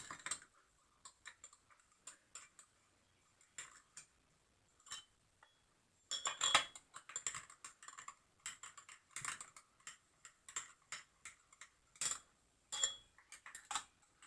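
Small metallic clicks and ticks from a tool snugging the cylinder screws on a Stihl MS660 chainsaw being assembled, sparse at first, then busier and denser in the second half, close and fairly quiet with no talk.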